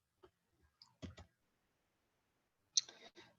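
A few sharp computer mouse clicks, close and quiet, spaced irregularly around a silent gap.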